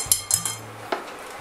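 A saucepan is swapped on a stovetop while crème anglaise is cooked on low heat, giving several close metallic clinks and clanks in quick succession, then a short pause and one more knock.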